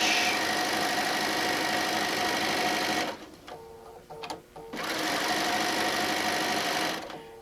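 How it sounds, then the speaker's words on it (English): A sewing machine stitches a quarter-inch seam around a fabric placemat made from a panel, whirring steadily up close, pausing briefly midway, then running on. "we're going to sew again all the way around at our 1/4 inch"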